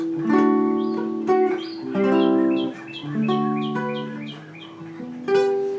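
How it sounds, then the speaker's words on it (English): A nearby bird calls loudly in a series of clear, whistled notes, with short pauses between phrases. "I'm sure you can hear those birds chirping in the background."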